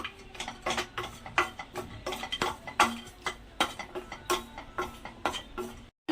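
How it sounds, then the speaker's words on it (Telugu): Cashews and raisins frying in ghee in a pan, stirred with a spoon: quick irregular clicks and metallic taps of the spoon against the pan, close and crisp, over a faint background sizzle. "జీడిపప్పు కిస్మిస్ ఇలా వేపుకుందాం ఇంకా ఉంటే బాదం పప్పు అన్నీ వేసుకోవచ్చండి ఇవి కొంచెం మనం ఫ్రై చేసుకుందాం"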